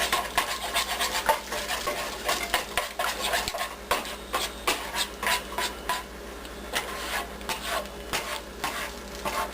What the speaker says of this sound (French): une spatule, puis on vient comme brasser pour mélanger le jaune et le blanc ensemble